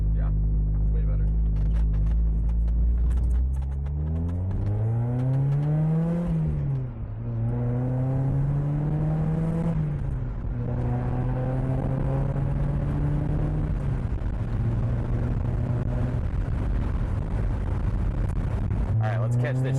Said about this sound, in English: A little bit of spirited driving to break the oil in, you know?